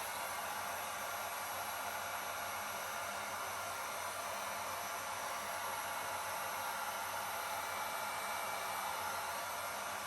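Heat gun blowing hot air to warm vinyl wrap on a Pro Boat Sonicwake model boat, a steady close hiss of airflow with a faint motor hum that holds even and unbroken throughout, without any talking.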